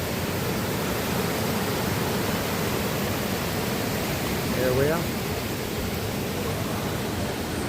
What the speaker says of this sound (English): That should be a fantastic waterfall.